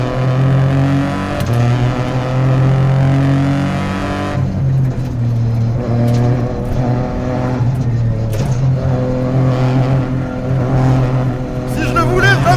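A Peugeot 208 Rally 4 rally car engine revs loudly and steadily while driving, with sustained harmonic drone and gear-shift dips around four and eight seconds, continuing under ongoing cabin noise.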